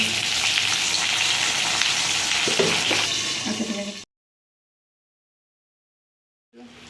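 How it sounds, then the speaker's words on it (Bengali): Potatoes fry in oil for a Bengali thin curry of drumstick, potato and eggplant, giving a loud, steady sizzle with a few scraping knocks before it cuts to silence, then briefly resumes. "মা তেলটা দিয়ে দিয়েছে এবার আলুগুলোকে ছেড়ে দেবে"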